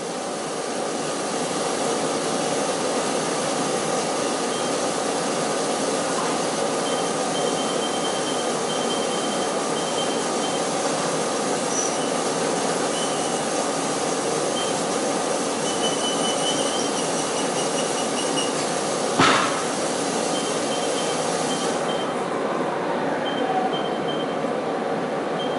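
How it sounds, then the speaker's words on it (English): A metalworking machine reaming with a tiny bit whines steadily for a long stretch with a high metallic squeal and a loud hum. A short sharp clack cuts in near the end. "Scott, what's that operation? Reaming?"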